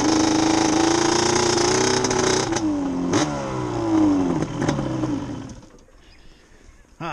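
A 100 hp motorcycle engine running rich on its jets revs hard and close, rising and falling in loud throttle blips, then drops away to a quieter idle near the end.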